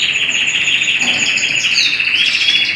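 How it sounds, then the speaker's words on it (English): Several canaries sing at once in a bird room, bright warbling trills and high chirps overlapping continuously, close and loud in an enclosed space. "You can hear the cockbirds all giving it a song."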